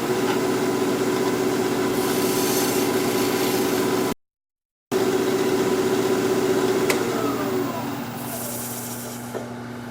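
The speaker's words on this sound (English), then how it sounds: "I'm going to go to a 3/8 inch bowl gouge for a minute just to clean up this bottom." A 3/8 inch bowl gouge cleans up the bottom of a cherry live edge mini-bowl on a wood lathe, giving a steady hissing hum with a brief break midway, then fading slightly as the cut ends.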